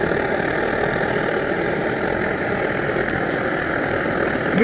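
A steady, close, breathy roar of an Optimus SVEA 123R camp stove burner runs unbroken for the whole stretch, with no voices.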